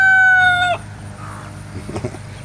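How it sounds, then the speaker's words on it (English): A rooster crows once, a loud, drawn-out call that breaks off sharply, followed by quieter background rustling and a few faint clucks. "My cock's making a lot of noise, y'all."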